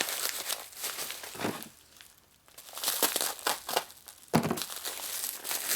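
A sharpened knife rips and tears open a U-Haul-coloured plastic eBay mailer holding a motorcycle master cylinder, giving close, loud crinkling and tearing bursts with a brief pause midway.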